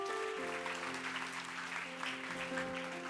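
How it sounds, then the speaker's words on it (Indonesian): A church congregation at a Bible study session claps for God, the clapping fairly faint under sustained musical tones from instruments playing along. "Beri tepuk tangan untuk Tuhan."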